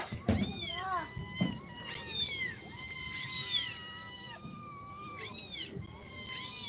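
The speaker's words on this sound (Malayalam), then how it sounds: "അഫ്സാ പൂച്ചയുടെ സൗണ്ട് മാറ്റി ഓഫ്" A white mother cat and her kittens meow repeatedly and close by, with drawn-out, rising and falling cries coming in several bursts. Soft background sounds and occasional voices sit underneath.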